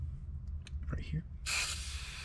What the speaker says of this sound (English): now we have to spray some penetrating oil on it